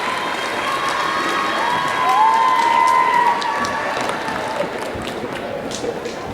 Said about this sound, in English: Let's give one more round of applause for all of our senior basketball players.